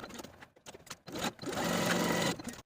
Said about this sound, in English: sew to your first notch and backstitch to secure